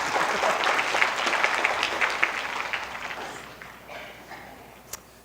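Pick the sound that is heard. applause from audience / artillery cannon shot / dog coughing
applause from audience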